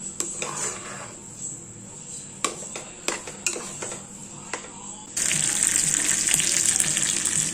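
Tempering spices spluttering in hot oil for a rice and dal dish, a close crackling sizzle with scattered sharp pops and utensil clinks, then a louder, dense frying hiss for the last couple of seconds.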